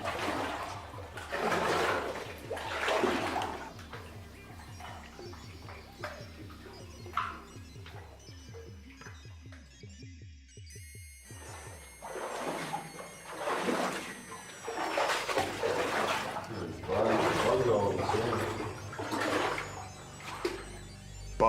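Repeated splashing and sloshing of water as someone wades step by step through an abandoned gold mine, loud and close, with brief quieter stretches between bursts.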